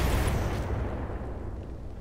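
A vehicle explodes in the mech game Roguetech (BattleTech), a loud low boom at the start that decays into a fading rumble, with no voices.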